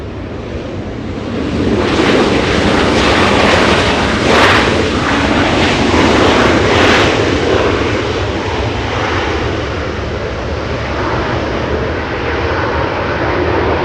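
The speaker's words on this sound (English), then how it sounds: "Delta 788 flying in from Salt Lake City. 1 hour, 23 minutes of flight time. This one, a good old 737." A 21-year-old Delta Boeing 737 arriving at LAX from Salt Lake City thunders in with a broad, rushing jet roar that swells quickly, stays loud, then eases off slightly toward the end, heard from nearby without talk.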